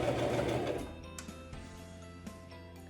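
Sewing machine stitching zigzags runs in a brief whirring burst, then slows into quiet mechanical clicks and ticks, faint and close.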